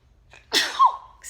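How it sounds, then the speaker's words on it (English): A single close, sharp sneeze with a breathy intake before it and a brief airy breath after, quiet room otherwise. "I think I'm going to sneeze again."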